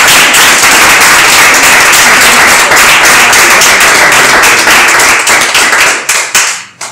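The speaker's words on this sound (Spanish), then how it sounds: "vamos a dar un aplauso" Very loud, close audience applause after a talk at a panel discussion, many hands clapping densely and continuously before thinning into scattered individual claps that die away at the end.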